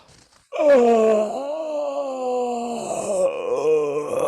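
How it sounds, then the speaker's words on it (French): A long, drawn-out human yawn during a guided breathing exercise, starting with a sharp intake and sliding into a sustained moaning, voiced exhale, close and fairly loud with no other talk. "Et on finit par un bâillement."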